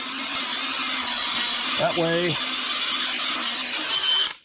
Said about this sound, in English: But we're going to go ahead and drill it.